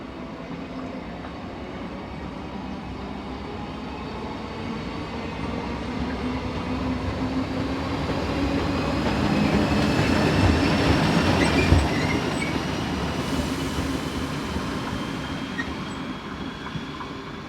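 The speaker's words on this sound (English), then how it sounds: "Some trains are in the hands of Class 1142s. This is number 621, about to leave with a service for Graz." A Class 1142 electric locomotive, number 621, pulls out with a service for Graz: a continuous rolling rumble of wheels that swells midway, with thin metallic wheel squeals threading over it.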